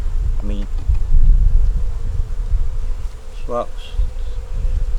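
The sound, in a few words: honey bees buzzing around a robbed-out nuc hive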